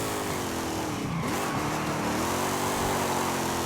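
A Chevrolet Camaro drives in Forza Horizon 5, its engine droning steadily with a rising and falling pitch and a brief tire squeal, loud and alone.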